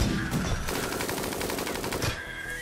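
Rapid machine-gun fire rattles in dense, continuous bursts during a RimWorld battle, loud and close throughout.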